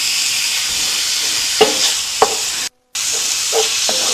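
Taco casserole ingredients sizzle in an oiled pan with a constant bright frying hiss, a few soft scrapes and taps from stirring, and a brief gap of silence near the end.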